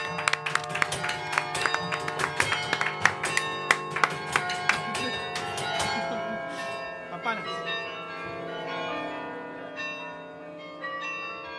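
Several bells ringing in a busy, overlapping peal with sharp repeated strikes, then fading into a long resonant decay.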